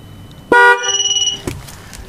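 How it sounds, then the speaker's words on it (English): A 2013 Camaro's horn gives one firm honk lasting about a quarter second, then a second, shorter and fainter chirp about a second later, loud and close with nothing else over it. "Gonna hit trigger, should get a horn honk."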